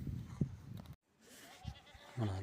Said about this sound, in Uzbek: Mana dashda qo'ylar